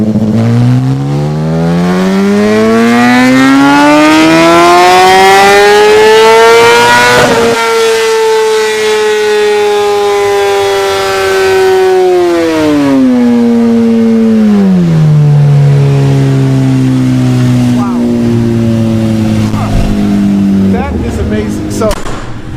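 A 2016 BMW S1000RR superbike revs hard on a dyno, its loud engine note climbing steadily to a high peak, then dropping back in stages as the throttle eases, close and continuous throughout.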